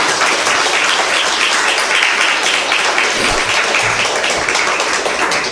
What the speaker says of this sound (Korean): 박수 한번 쳐보소.